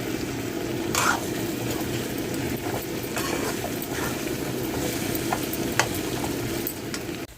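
Mustard seeds and tempering spices for raw mango pulihora crackle and sizzle in hot oil, with stirring and a few sharp pops over a steady frying hiss, close up.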